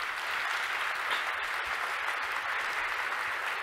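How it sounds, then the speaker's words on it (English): An audience applauds at a tech conference keynote after project updates, a steady wash of many hands clapping, fairly distant and soft, no speech on top. "Can round of applause for all the updates."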